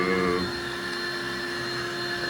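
A household vacuum cleaner runs with a steady, droning whine close by while cleaning the enclosure of pet chinchillas at home. The sound is loud and constant throughout, with no speech.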